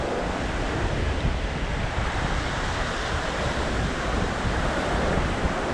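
Ocean surf rolls in steadily along a beach shelf where sand fleas are dug for sheepshead bait, a constant broadband wash of breaking waves with wind buffeting the microphone and no voices.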